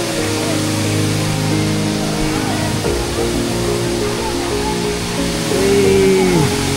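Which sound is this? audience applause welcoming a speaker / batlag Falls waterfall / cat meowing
batlag Falls waterfall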